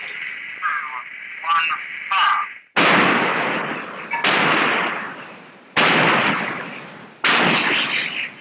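Naval guns aboard the Australian destroyer HMAS Hobart fire in heavy, booming reports, four loud blasts spaced a second or two apart, each decaying into a rolling rumble after some earlier radio-like chatter.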